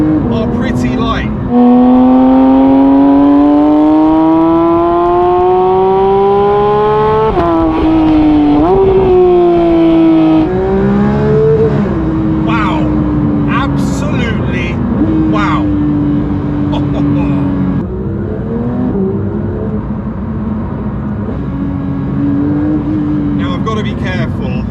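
A 992-generation Porsche 911 GT3, rear-engined, drives a road, its engine droning loudly and rising and falling in pitch through gear changes and acceleration, heard close from inside, with someone talking at times.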